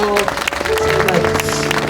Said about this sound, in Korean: 우리 박수 한번 해주세요.